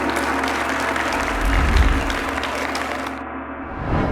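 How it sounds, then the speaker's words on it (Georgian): Studio audience applauding on a Georgian televised book quiz final, a steady loud wash of clapping that holds evenly before thinning toward the end. "ტაში."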